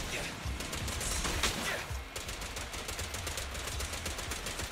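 Rapid gunfire from the video game Zenless Zone Zero, a dense crackling burst of shots running steadily throughout, with game voices and effects underneath.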